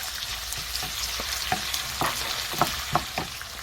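Ginger garlic paste sizzles in hot oil with shrimp paste, a close, continuous frying hiss broken by several sharp spatula scrapes and taps against the pan, with no talk.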